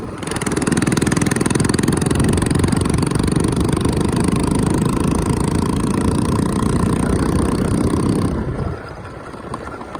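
A motorcycle with a silencer loosened from riding through farm fields runs loud and close with a steady rumbling clatter, then drops slightly in level near the end.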